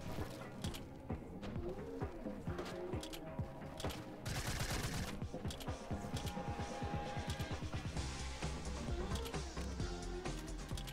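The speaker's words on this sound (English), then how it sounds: "Why is this dude just shooting us?" Rapid gunfire in Fortnite Mobile, with dense bursts of repeated shots and some heavier fire over game sound. It stays loud and continuous throughout.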